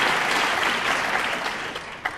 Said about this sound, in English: And Earl leading the applause